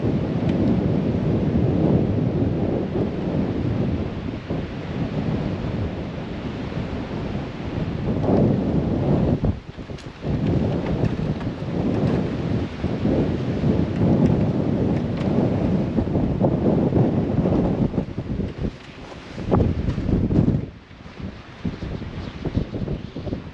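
Strong storm wind at the Lang Lang foreshore roars loudly and continuously, buffeting the microphone in heavy gusts, with brief lulls around ten and twenty seconds and no voices.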